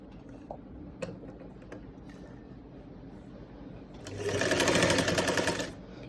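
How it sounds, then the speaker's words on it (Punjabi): A sewing machine runs a top stitch on fabric in one loud, steady whirring burst near the end, after quiet moments with light clicks and handling sounds. "ਇਹਦੇ ਉੱਪਰ ਆਪਾਂ ਇੱਕ ਟੌਪ ਸਟਿਚ ਲਗਾ ਲੈਣੀ ਹੈ"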